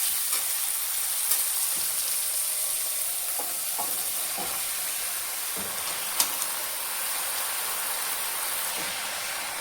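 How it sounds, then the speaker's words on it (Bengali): Greens and potatoes fry in spiced oil as they are stirred in a pan, with a steady close sizzle and occasional soft scraping strokes of the spoon. No one speaks. "এখন এগুলো ভালো করে মিক্স করতে হবে, ভালো করে নাড়া দিতে হবে"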